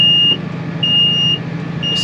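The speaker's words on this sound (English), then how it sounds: "That alarm goes off. It just starts making you worry." A tank level alarm on a drilling truck sounds in repeated high, steady electronic beeps of about half a second each, loud over a low engine hum.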